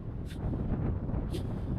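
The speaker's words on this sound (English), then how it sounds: "It is really windy. It's so windy, I'm struggling to even stay stood up." Strong gusts buffet the microphone on an exposed, windy stretch of Ventspils, a steady low roar of wind noise filling the whole moment with a couple of brief brighter bursts.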